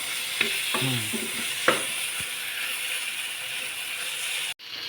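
Onion and chilli being stir-fried in a pan for Thai chicken with roasted chilli paste: a steady close sizzle with a few scraping stirs and clicks of the utensil, then a brief dropout near the end.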